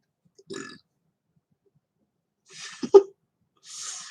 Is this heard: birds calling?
no